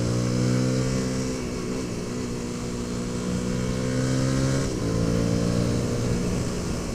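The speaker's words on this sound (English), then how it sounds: "I'm on the CRF300L today, and I just wanted to test the new air filter." A Honda CRF300L motorcycle fitted with a K&N air filter runs at steady riding speed, its engine droning loud and close with small pitch shifts from throttle changes, and no talk over it.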